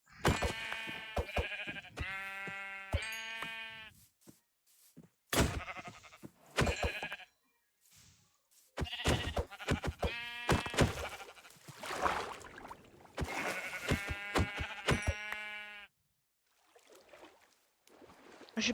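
Repeated sheep bleats from a video game, several in a row with short gaps, clear and close, with no talking.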